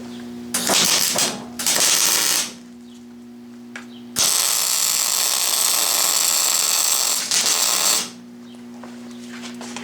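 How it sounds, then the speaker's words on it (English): Tack welding on a steel belt guard for a South Bend 9-inch lathe: loud bursts of crackling, buzzing arc, roughly four of them of uneven length, with quiet gaps between them. "I'll put a couple tack welds there, then I'll start working my way around"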